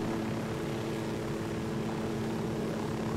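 An Unidad helicopter in the Ghost Recon Wildlands video game thrums as a steady, loud rotor and engine drone that holds level throughout, with no speech over it.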